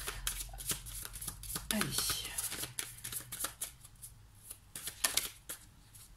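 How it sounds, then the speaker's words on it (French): Tarot cards riffle and slap together in quick bursts while a reading is laid out, close and crisp, with a voice talking over much of the shuffling. "je vais procéder au tirage des cartes pour ce mois de janvier pour vous"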